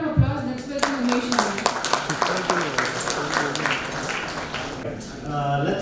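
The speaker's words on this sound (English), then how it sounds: "So with a big round of applause, let's welcome Umesh" An audience at the VLSI Next 2023 event breaks into a burst of applause to welcome a speaker, with dense clapping over a few seconds while a voice talks through it.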